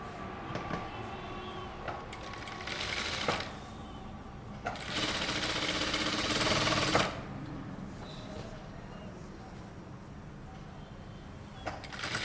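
A sewing machine stitches kurta lining to the main fabric in bursts, with a long steady run in the middle and shorter runs before and after, quiet pauses between.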